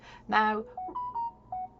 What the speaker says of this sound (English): that's my phone you can hear